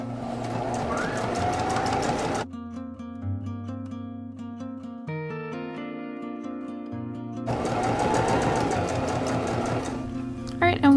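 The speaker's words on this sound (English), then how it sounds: "put your foot back down, and just start sewing again" Sewing machine stitching a quilted sunglasses case, loud rapid whirring runs at the start and end with a quiet pause between, while a person talks.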